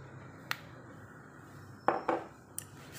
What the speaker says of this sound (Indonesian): diaduk-aduk ya, biar nggak lengket ya